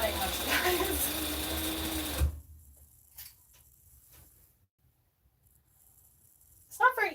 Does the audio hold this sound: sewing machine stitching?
yes